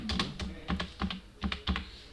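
A colour name is typed on a computer keyboard for InPage Urdu software: about nine close, crisp keystrokes in an uneven rhythm.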